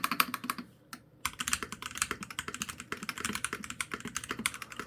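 Rapid, continuous typing on a MelGeek MADE84Pro mechanical keyboard, crisp close-up keystrokes with one brief pause near the start, no speech.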